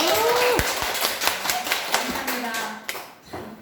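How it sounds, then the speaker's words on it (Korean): Children's church congregation at an elementary worship service clapping together in a quick, lively round of applause, with talking heard alongside. "우리 찬양을 섬기는 선생님들 정말 감사합니다. 박수."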